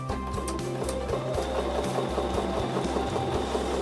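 A sewing machine stitches the final stretch of a seam on a quilted charm-pack table runner, its needle chattering in a fast, steady mechanical rhythm with brief pauses, close and fairly loud throughout.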